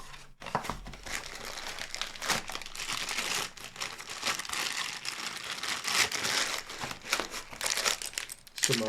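Cardboard boxes holding a SIMUBE Fanatec S-HUB and Podium Advanced Module are opened, with plastic packaging crinkling and rustling continuously at close range, punctuated by sharper crunches and brief tearing sounds.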